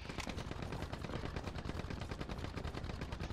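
Dense, continuous gunfire from the World War II shooter Hell Let Loose, rapid overlapping shots and machine-gun bursts crackling loudly and steadily throughout with no pauses.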